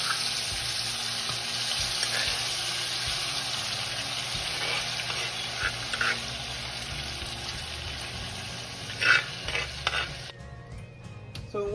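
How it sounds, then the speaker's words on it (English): Tomato and pepper sauce frying in a pot for a Ghanaian dish, a steady close sizzle with bubbling and light stirring clatter, growing more uneven near the end, with no voices. "We have here the pepper sauce, and this will fry out."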